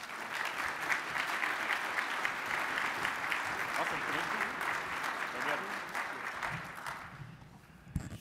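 Sustained audience applause at a nuclear regulatory conference, a dense steady clapping from a large crowd that holds for about seven seconds before fading out, with a brief knock at the very end.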